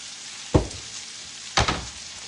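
Potatoes, onions and peppers frying in bacon grease and oil, a steady soft sizzle broken by two loud bursts of crackling as the pan is stirred or shaken.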